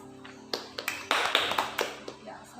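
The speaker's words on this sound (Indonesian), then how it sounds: "Tepuk tangan untuk Logas" A classroom of students claps hands in a series of distinct, fairly close claps roughly every quarter second, with a voice speaking underneath.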